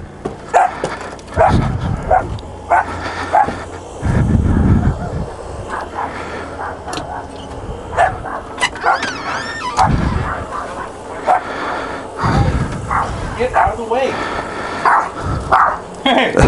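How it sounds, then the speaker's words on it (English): A large dog barks aggressively and repeatedly at a home, its bursts scattered across the scene while people talk nearby. "Boy, he's a ferocious dog."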